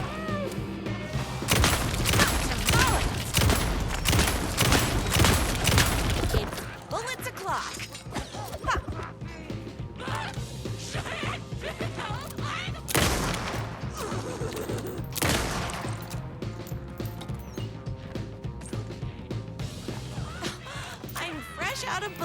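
Gunfire in Alan Wake 2: Night Springs, a dense burst of loud rapid shots and crashing impacts at first, then sporadic heavy blasts over a continuous game soundscape, with someone talking over it.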